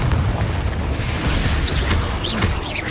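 A Confringo fire spell explodes in the Hogwarts Legacy video game, producing a dense, loud rumbling boom that fills the whole moment, with faint crackling and whooshes on top.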